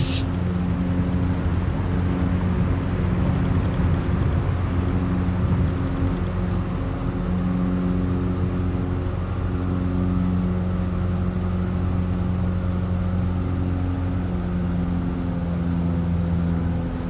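A loud, steady aircraft engine drone at takeoff power in a flight simulator, with strong low tonal hum, holding constant power throughout with no talking.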